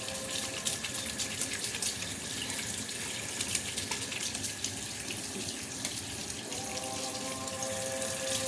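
Hands are rubbed and washed under a steady stream of running tap water splashing into a sink, a continuous close hiss with no talking.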